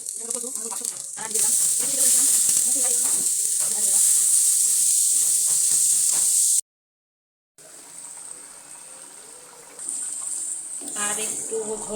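Dried fish cooked down with potato and eggplant hisses and sizzles steadily in a pan, a loud bright frying noise with a brief silent gap partway through and faint voices and clatter underneath.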